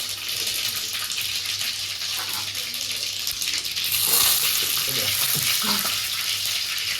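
Cumin seeds and curry leaves sizzle and spatter in hot oil in a home kitchen, making a continuous close crackling hiss that swells a little partway through.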